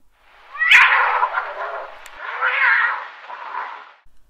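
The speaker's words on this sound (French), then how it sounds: "Ce sont les chats du refuge !" Agitated shelter cats yowl and caterwaul nearby outdoors among sand dunes, one long wavering cry swelling and fading over about four seconds, with no talking.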